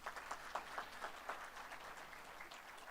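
Conference audience applauding at a digital transformation summit in Diani, a dense sustained wash of many hands clapping at moderate distance, steady throughout with no talk over it.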